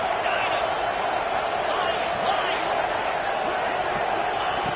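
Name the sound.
stadium crowd noise in Madden football video game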